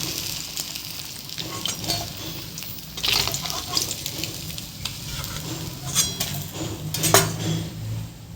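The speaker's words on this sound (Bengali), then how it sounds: "এবার মা মাছগুলোকে তুলে নিচ্ছে।" Crisp-fried fish for a kalia comes out of a pan of hot oil with a steady, close sizzle, while metal utensils scrape and clink against the pan throughout.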